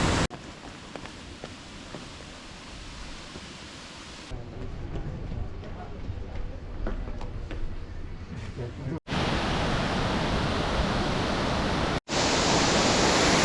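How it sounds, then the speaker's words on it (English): Loud, steady roar of rushing water at Silver Waterfall in Sapa, growing denser and more powerful partway through, like standing close to a heavy waterfall. "The waterfall looks aggressive today. So much water, look at that."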